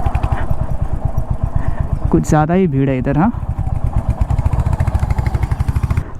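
A Royal Enfield Hunter 350 motorcycle, at a service centre with tappets due for adjustment, idles with a loud, rapid, even thumping pulse throughout, and someone talks briefly over it.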